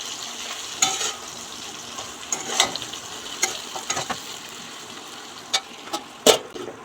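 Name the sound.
stirring coriander and cumin powder in a cooking pan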